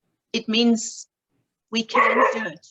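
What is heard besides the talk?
dog barking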